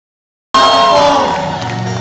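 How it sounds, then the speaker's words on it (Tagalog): Loud crowd cheering and whooping bursts in at a Miss Earth 2012 pageant event in the City of Calapan, a dense roar of shouting voices that stays strong and sustained after a sudden start. "bigyan po natin ang masigabong palakpakan at malakas na hiyawan"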